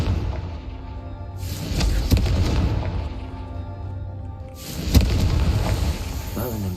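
A Confringo blast spell explodes in the video game Hogwarts Legacy, giving two heavy booming bursts a few seconds apart over continuous game ambience and music.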